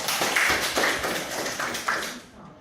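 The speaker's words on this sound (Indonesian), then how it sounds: "tepuk tangan" A classroom of students claps briefly for a classmate's answer, several quick bursts of hand claps in a loose rhythm, close and fairly loud, tapering off at the end.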